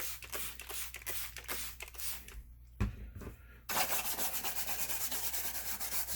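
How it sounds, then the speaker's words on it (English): Scrubbing on an Apple IIe computer part during a refurbish, a close, steady rubbing and brushing texture with rhythmic strokes, briefly pausing before resuming more loudly and briskly. "give it a good scrub"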